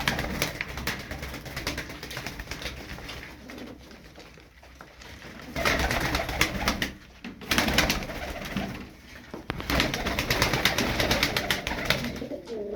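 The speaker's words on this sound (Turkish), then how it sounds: "Kuşlarımız güzel abiler, sağlıklı." Domestic pigeons cooing, including a white hen, in a loft, with continuous loud coos and rustling that swell in several waves and stay close.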